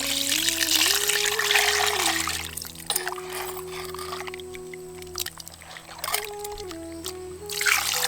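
Water trickles and pours steadily over pieces of country duck meat being washed with curd, with splashing surges and a sustained running-water hiss throughout, close by.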